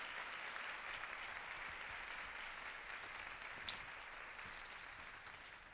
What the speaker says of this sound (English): Let us congratulate her with a big round of applause